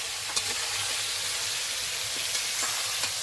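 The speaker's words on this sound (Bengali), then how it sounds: "দেখুন প্রায় ভাজা হয়ে এসেছে" Goat fat sizzling steadily in a frying pan, a dense close hiss with a few faint taps of a utensil, no voices.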